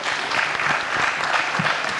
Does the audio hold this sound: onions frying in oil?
no